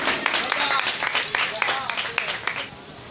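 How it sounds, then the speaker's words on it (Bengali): A crowd at an Eid clothing distribution event in Raina, Purba Bardhaman, claps in a dense, lively burst, with a voice speaking over the applause. "এত জোরে হাত তালি।"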